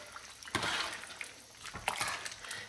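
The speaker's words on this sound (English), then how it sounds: "I'm gonna go ahead and add this cornstarch and water mixture in" A cornstarch and water mixture poured into a slow cooker of pineapple chicken, two short bursts of splashing liquid close by, with quiet pauses between.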